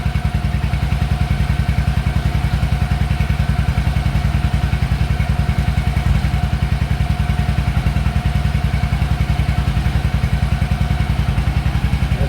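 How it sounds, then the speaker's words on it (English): A motorcycle engine with an exhaust leak runs loud and close at a steady idle, its rapid even pulsing chuff and ticking clatter continuous throughout. "I know this bike has an exhaust leak right here"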